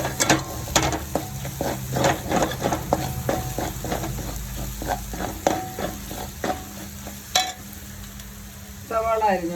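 Chicken curry base sizzling and frying in a pan, a steady crackle broken by repeated sharp clicks and scrapes of stirring, close and moderately loud, with no voices.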